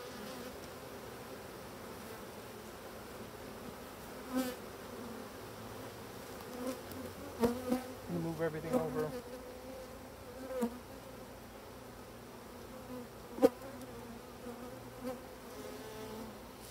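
Honeybees buzzing inside an opened hive, a low steady insect hum with a few louder buzzes as individual bees fly close past, no talking.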